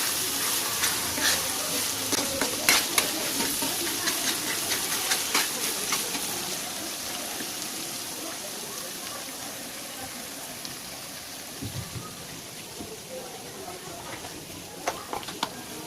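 Onions fry and caramelize in an oiled pan, close by, with a soft continuous sizzle. Scattered crackles and the clicks of stirring are busiest early on, then the sizzle settles into a quieter hiss.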